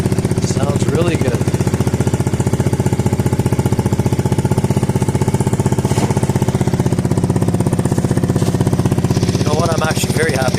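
A 2020 Yamaha Smax scooter engine fitted with a performance exhaust runs at a steady, loud, throaty idle throughout, with a brief voice faintly heard near the start and end.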